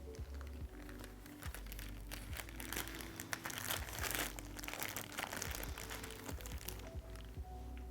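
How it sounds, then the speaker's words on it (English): A clean plastic bag crinkles and rustles steadily as it is handled and wrapped over a burned area, with soft crackling close up over a low background hum. "place the burned area inside a clean plastic bag"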